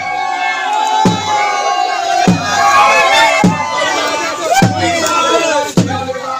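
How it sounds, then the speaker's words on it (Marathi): A crowd at the Gade festival in Pilgao, Goa, cheering and shouting in a lively mass while heavy thuds strike at a steady beat about every second. The crowd noise is loud and close throughout. "पिळगांवां काल गड्या वेळार गर्दी पळोवपाक मेळ्ळी."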